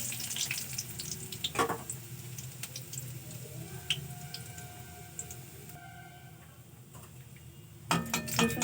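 Chopped garlic fries with black cumin seeds in oil for baingan bharta, a soft, low sizzle with occasional spoon clinks and scrapes, ending in a louder burst of crackle.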